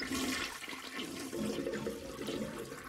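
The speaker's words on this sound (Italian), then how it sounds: "E lo sciacquone funziona in questo modo." A cartoon toilet flushes loudly and steadily, a gurgling rush of water filling the whole moment without voices.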